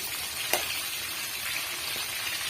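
Eggplant frying in oil for a biryani-style gravy, a steady close crackling sizzle with one brief knock of turning.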